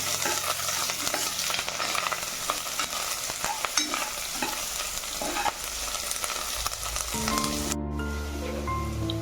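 Curry leaves sizzle in hot oil with small shallots while being stirred, a continuous close hiss and crackle broken by scraping strokes, ending in a brief tonal noise near the end.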